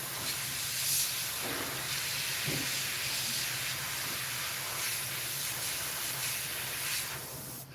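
A steady airbrush sprays paint with a continuous hiss, close and fairly even throughout, while work on a Wolverine figure is underway.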